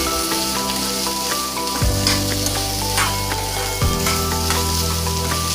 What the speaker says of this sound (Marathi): यामध्ये मी जे 2 कांदे कापून घेतले होते ते टाकणार आहे आणि व्यवस्थित मिक्स करून घेणार आहे